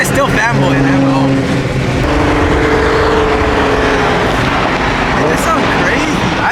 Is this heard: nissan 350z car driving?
yes